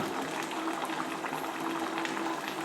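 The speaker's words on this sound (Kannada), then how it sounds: "ನೋಡಿ ಕುದೀತಾ ಇದೆ." A pot of Karnataka-style curry boils steadily on the stove, a dense, continuous bubbling hiss that stays close and even throughout, with no voices over it.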